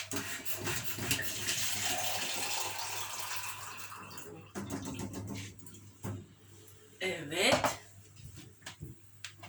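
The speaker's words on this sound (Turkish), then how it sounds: "Hemen su koyayım." Water pours into a container to make a Herbalife shake, a steady splashing rush for a few seconds that gives way to softer handling sounds while a person talks.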